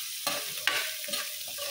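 Sautéed cabbage with fresh shrimp paste stirred in a pan, a close, continuous sizzle broken by several scraping stir strokes, no talk.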